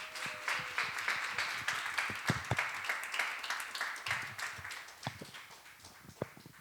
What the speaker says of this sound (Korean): 박수로 환영해 주셔서 감사합니다